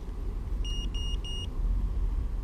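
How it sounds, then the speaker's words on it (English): A Walkera Rodeo 150 quadcopter gives three short, evenly spaced electronic beeps after its battery is plugged in, standing clearly above a steady low rumble of background noise. "it will then beep again to let us know that it's finished its gyro stabilization or calibration"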